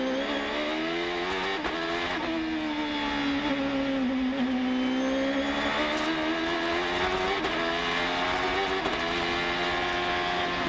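Onboard a Champ Car race car at the Toronto street circuit in 2006: a loud, steady high-revving engine howl with wheel spin out of turn 3, pitch dipping and climbing as revs change, no talk.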